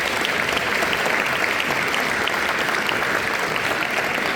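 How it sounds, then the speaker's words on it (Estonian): Dense, steady applause fills a hall as the audience at a school Christmas party claps for student performers, a continuous wash of many hands at even loudness with no voices standing out. "Võite neile ka plaksutada."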